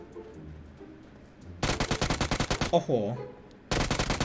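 In PUBG Mobile, a gun fires at bots in loud, rapid automatic bursts, close up, first a long volley, then a pause, then more firing. A man's brief exclamation and voice come in the gap.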